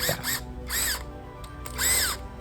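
An impact wrench removes 13 mm nuts from a grass trimmer clutch in short, close whirring bursts, two quick ones followed by two longer rattling runs with rising and falling pitch.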